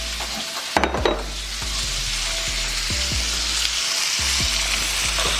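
Ground beef and Italian sausage sizzle steadily in a hot pan, a continuous loud frying hiss broken by occasional scraping stirs and a few clanks of a utensil against the pan.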